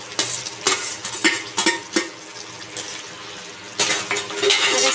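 A spoon stirs paneer into tikka masala in a pan. Several distinct scraping strokes against the pan come in an uneven rhythm, with a thick, wet sizzle of masala underneath, close and fairly loud.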